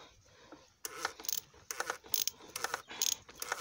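A ratchet wrench tightening the oil filter on a BMW 330d E46 with the M57 diesel engine, giving several short bursts of clicking ratchet strokes, close and fairly crisp, separated by brief pauses.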